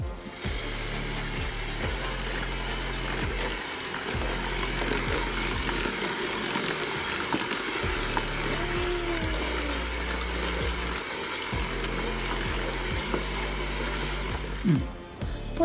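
An electric hand mixer whirs steadily through sugar cookie batter with egg in a bowl, a loud continuous motor drone with small changes in pitch and a brief knock near the end.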